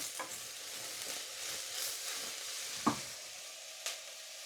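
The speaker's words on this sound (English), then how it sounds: "They should release some liquid once they get going, and that will stop the onions from burning." Sliced mushrooms and onions sizzling in a pan for a mushroom and pea risotto, a soft, continuous frying hiss with a couple of brief stirring knocks, close and quiet with no talk.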